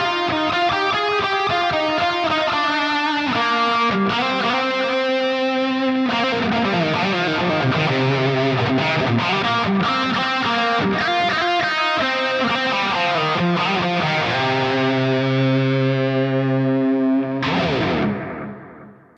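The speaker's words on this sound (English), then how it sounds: "This is a 6505 model in the Fractal with a little bit of delay after the amp." An electric guitar plays a bright, cutting distorted lead through a 6505 amp model in a Fractal unit with delay after the amp, fast sustained notes ringing loud and alone before cutting off at the end.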